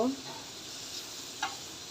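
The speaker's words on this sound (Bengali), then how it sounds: "পেঁয়াজটা আমি বাদামি কালার করে নিব" Onions frying in a pan until brown for a salted hilsa bhuna, a steady soft sizzle with a brief stir near the start and another toward the end, a faint voice at the opening.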